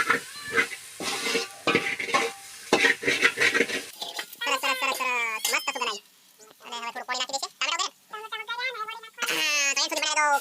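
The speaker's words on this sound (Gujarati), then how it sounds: "શાક વઘારવાનું ચાલુ કામ છે." Rapid scraping and clattering of a spoon stirring a pan while a vegetable curry is tempered, with a soft sizzle beneath, followed by close voices talking.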